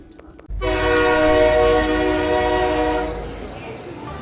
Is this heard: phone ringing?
no